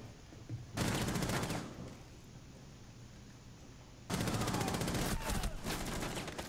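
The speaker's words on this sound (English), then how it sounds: "You can shoot through the bed?" Two long bursts of heavy, rapid automatic gunfire in Rainbow Six Siege, fired through a bed on the Presidential Plane map, loud and close, separated by a few seconds of quieter ambience.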